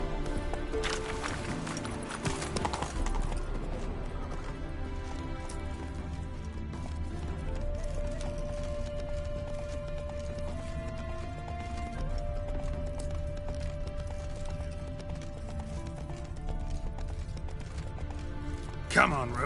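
Galloping hooves of the horse Roach in The Witcher 3 game, a steady running clip-clop under continuous game music and ambience, with a voice speaking over it.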